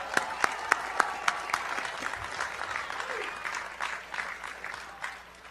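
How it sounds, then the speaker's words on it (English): Applause from a commencement crowd honoring returning graduates of Ithaca College, opening with a few sharp, distinct claps that swell into a steady, moderately distant wash of clapping and then slowly fade. "Let's give you a round of applause."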